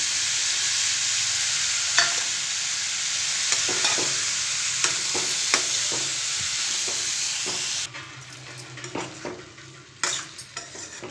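Peas being stirred into a frying carrot vegetable curry with a metal spoon, steady sizzling under repeated scraping clinks against the pan, the sizzle dropping quieter partway through as stirring continues.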